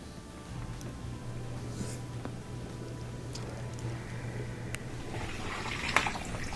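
A Summit dishwasher with a draining fault refills with water, giving a faint, steady low hum and soft rushing of water that runs evenly throughout.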